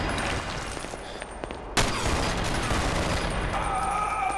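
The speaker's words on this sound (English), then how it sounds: "Ooh, I got the heavy machine gun now." A heavy machine gun fires in a video game, starting with a sharp loud burst and then holding a dense, roaring barrage close up, with scattered clicks just before it.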